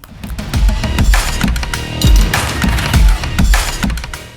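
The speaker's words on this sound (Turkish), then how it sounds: "Şöyle kutusunu açalım." Cardboard box of an OPPO Reno4 Lite phone being opened by hand, a series of close scraping and thudding handling noises with rustles, no speech.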